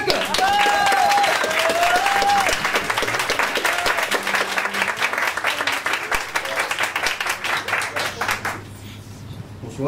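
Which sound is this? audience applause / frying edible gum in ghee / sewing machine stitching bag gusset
audience applause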